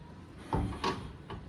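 An old wooden door at a grandmother's house is pushed and rattled without opening, giving three dull, close knocks spread over about a second.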